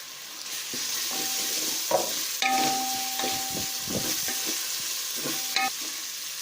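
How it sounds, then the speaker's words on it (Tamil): Sliced onions and green chillies fry in hot oil for spinach pulao, a continuous close sizzle broken by several clattering stirs of a spoon against the pan. "இப்போ இது கூட நான் ஸ்லைஸ் பண்ணி வச்ச ஆனியன் போடுறேன்"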